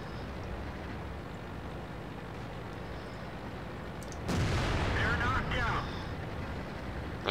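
In World of Tanks, a derp gun fires: a sudden heavy boom rises over steady engine rumble and battle noise, then rings out for about a second before fading back into the background.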